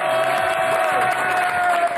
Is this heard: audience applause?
yes